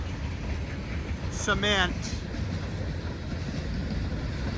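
A Pan Am freight train rolls steadily past at Royalston in cold, heavy rain, a continuous rumbling wash of wheels and cars. A brief squeal rises partway through, and a voice speaks briefly over the train.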